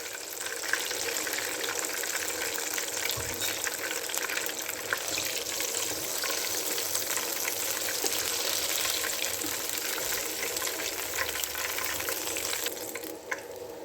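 Fish frying in ghee in a kadai: a loud, dense, continuous hiss of bubbling fat that holds steady from start to finish, with no talking.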